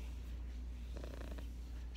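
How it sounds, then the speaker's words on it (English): A small cat purring softly indoors, a steady low rumble heard close up and faint, with a slightly stronger burst of purring midway. "She's purring."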